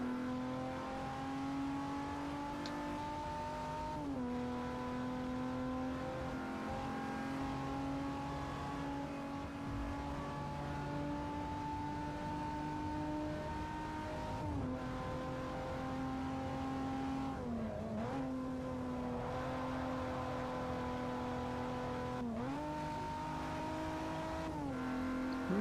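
A truck engine in Forza Motorsport 4 races lap after lap with a loud, sustained drone. The revs rise and drop at each gear shift and corner, and the tires squeal briefly now and then.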